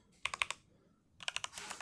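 HATOR Icefall mechanical keyboard with linear red switches typed on in two quick bursts of crisp clacks separated by a short pause, close and clear with no talk.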